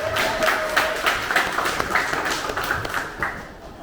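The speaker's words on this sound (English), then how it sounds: "More applause for Vanessa, please." Audience at a live Melbourne Silicon Beach meetup clapping for a speaker, a steady scattered patter of many hands at moderate distance that gradually thins out toward the end.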